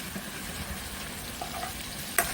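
Small-cut tomatoes seasoned with salt, black pepper, cumin and hot chili tip onto onions in a pan, giving a continuous sizzle with stirring scrapes and a sharp clink near the end, no talking.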